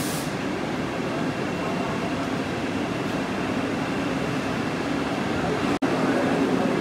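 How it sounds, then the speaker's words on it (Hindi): A Vande Bharat Express train on the Udaipur–Jaipur route idles or rolls slowly at a station reversal point, giving a steady loud rumble with an air-conditioning-like hiss and one brief sharp click near the end. "अब यहाँ से हमारे ट्रेन का रिवर्सल होगा और ये बढ़ जाएगी अजमेर भीलवाड़ा वाली लाइन पर।"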